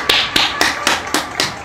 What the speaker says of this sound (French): Ah, ça y est, il est 20h, c'est le moment d'applaudir.